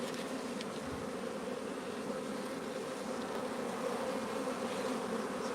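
Honeybees hum steadily at a backyard hive full of capped brood, a dense, continuous buzz that stays loud and close with no talking throughout.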